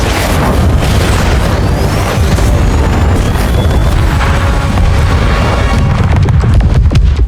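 A camp explodes in a TV drama, a loud, sustained roaring blast with crashing debris filling the whole stretch without letup.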